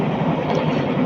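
Interior rumble of a crowded KA Serayu passenger train running on rails, a steady broadband roar with faint rhythmic wheel clatter throughout.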